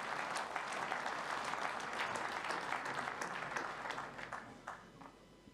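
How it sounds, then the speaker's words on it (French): An assembly audience at a general meeting gives steady applause after a presentation, a dense wash of many hands clapping at moderate distance that gradually thins toward the end. "Je pense qu'on peut applaudir cette intervention"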